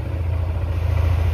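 A Yamaha NMAX scooter engine idles steadily with a low, even rumble, close and constant throughout with no voices.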